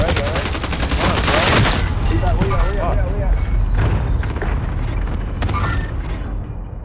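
Video game gunfire crackles in rapid bursts, loud and close, mixed with mechanical clatter and a game voice line over a dense, busy background.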